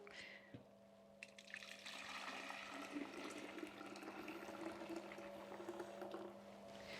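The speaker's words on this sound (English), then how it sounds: "now that I've strained my golden apple and cucumber, I'm going to add it to my jug." Strained golden apple (pommecythere) and cucumber juice pours into a jug in a continuous splashing stream lasting several seconds, close and moderately loud, with a faint steady hum beneath it.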